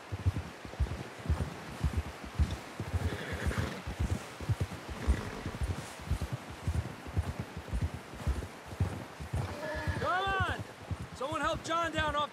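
Rhythmic hoofbeats from a horse in Red Dead Redemption 2 clop steadily throughout, mixed with rustling and background activity, while a voice speaks near the end.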